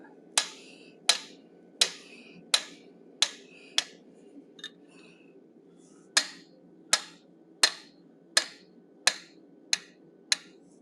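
Hammer blows on hot steel worked with a 1/8 inch fuller to texture a forged animal head, a dozen sharp ringing metallic strikes in a steady rhythm with a brief pause midway, close and clear.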